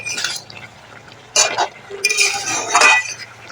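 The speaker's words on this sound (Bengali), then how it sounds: "ঢাকনা খুলে একটু মাঝে মধ্যে এরকম নেড়ে চেড়ে দেবো" A spoon scraping and clinking against a pot while stirring a pumpkin and Malabar spinach curry, in short bursts of metallic clatter and wet shuffling, fairly close.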